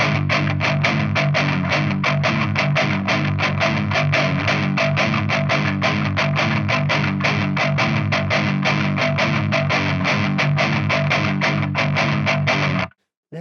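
Electric guitar with a gritty, heavily distorted tone, comparing humbucker and single-coil pickups, strummed in loud sustained chords with steady rhythmic attacks, alone and close, cutting off abruptly at the end.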